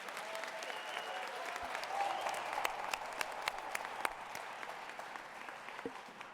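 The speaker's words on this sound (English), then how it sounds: "Would everyone please give her a round of applause?" An audience at a Martin Luther King Jr. tribute gives a round of applause, a steady, even patter of many hands clapping in a large room, moderately distant and lasting throughout with a few sharper individual claps.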